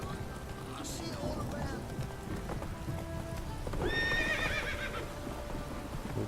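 Horse hooves clip-clop steadily in The Witcher 3 video game, followed by a clear whinny partway through; close and moderately loud, with game ambience underneath.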